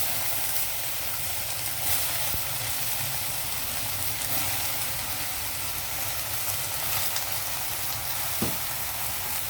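Brinjal pieces frying in hot oil in a pan, a steady close sizzle and hiss running throughout with no talk.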